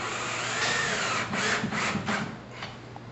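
A power drill drives a drywall screw through drywall into a wall stud during a TV-above-fireplace drywall repair: a steady whirring grind with a few pulsing bursts as the screw bites, fairly close, then winding down, with no talk.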